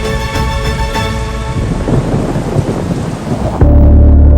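Torrential rain in a sudden storm over the Himalayan state of Uttarakhand, a dense loud hiss of downpour with deep rolling thunder rising near the end, and no voices.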